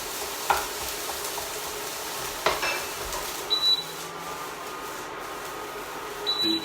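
Vegetables for vegan hot bean fried rice, including sweet corn, sizzle in a pan as they are stirred. Low steady frying hiss runs under a few sharp utensil scrapes and taps, with no voices.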